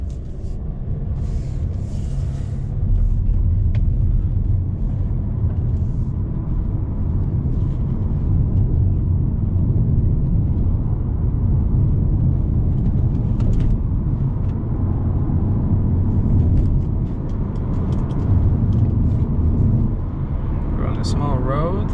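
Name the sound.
Audi A4 2.0T car driving, engine and road noise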